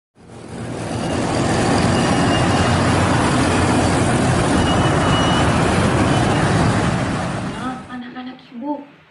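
Recorded road traffic plays through a speaker as a dense, steady roar of trucks, cars and buses, then cuts off abruptly into a few seconds of faint tones.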